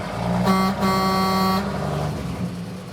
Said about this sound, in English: It's got an air horn.